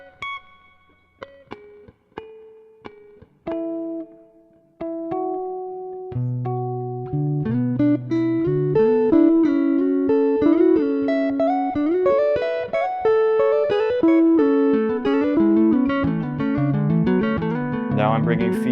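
Live looper with feedback set to zero, each played note repeating once: sparse plucked electronic notes at first, then building into a dense overlapping layered passage of repeated tones, loud and continuous with no talking.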